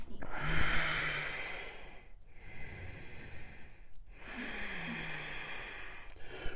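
Deep, audible breaths in and out through the nose during a twisting yoga pose, slow and rhythmic with pauses between them, close and fairly quiet.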